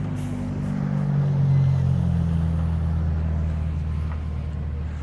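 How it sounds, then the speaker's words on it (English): Ford Fiesta racing cars roll through a pit lane, a steady low engine drone rising briefly then holding, close and fairly loud with no voices. "the cars just come through the pit lane now"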